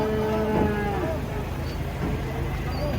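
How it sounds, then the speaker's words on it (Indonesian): A calf moos a couple of times at close range, drawn-out low calls over a noisy outdoor background, as cattle are unloaded from a truck. "Ada anakan sapi ngamuk ini."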